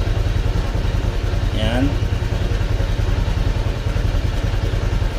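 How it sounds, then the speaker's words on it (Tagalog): Motorcycle engine running at idle just after starting during live tuning with Tuner Pro, a steady close rhythmic putter throughout, with someone briefly speaking over it. "so umandar yung motor."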